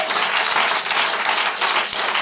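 A church congregation at a French-language service claps and cheers for Jesus, a dense, steady wash of applause filling the whole moment without a break.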